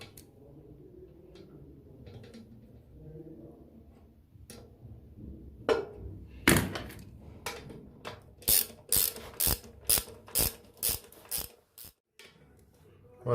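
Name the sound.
tightening the mounting nut while installing a toilet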